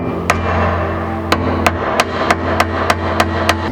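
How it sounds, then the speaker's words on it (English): A mallet strikes a seized brake slide pin on a Nissan 240SX, eight loud metallic blows, one early and then a steady rapid run, over a constant low mechanical hum. "I'm gonna try hitting it again with the mallet"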